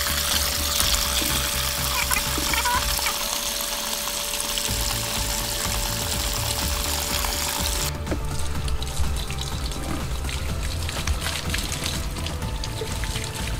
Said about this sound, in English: I'm gonna refill the water into the tank.